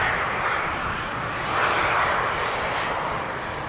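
Embraer KLM Cityhopper jet landing at Amsterdam Schiphol on runway 18R with reversers open, a loud, close, steady broadband engine roar that swells briefly mid-pass.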